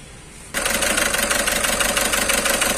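A Volkswagen Vento 1.6 TDI diesel engine idles with a misfire in cylinder 2, cutting in abruptly after a quiet half-second and then running loud and steady with an uneven, rough knocking pulse, close up with no talk.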